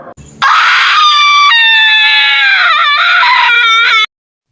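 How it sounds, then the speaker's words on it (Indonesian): A loud, piercing scream used as a horror-story sound effect, a single sustained shrill wail lasting about three and a half seconds with wavering pitch, close and alone, after a brief low noise at the start. "Adikku menjerit."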